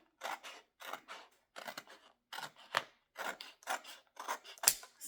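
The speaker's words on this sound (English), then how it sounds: "So I'm just trimming off that excess white." Scissors trim excess white paper off an 8.5x11 Valentine's Day greeting card in about nine crisp, evenly spaced snips with short quiet gaps between cuts.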